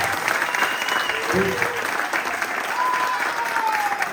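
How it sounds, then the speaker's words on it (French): An audience applauding a young performer at a judo and jujitsu school's end-of-year show, sustained clapping from a crowd in a hall with a brief voice and faint tones underneath. "vous pouvez l'applaudir"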